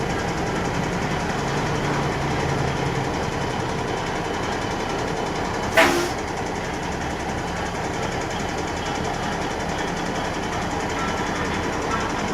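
An AM General 14-wheeler truck with automatic transmission on a road test after repair, a steady loud engine and road drone throughout with one brief knock partway, no talking.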